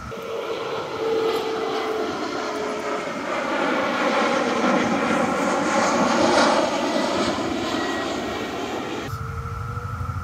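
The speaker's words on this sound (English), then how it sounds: "We can see the president's helicopters over in the background" Presidential helicopters flying in the background along a road in Washington DC, a steady droning engine roar with rotor-like pulsing that swells and fades over about ten seconds, heard outdoors.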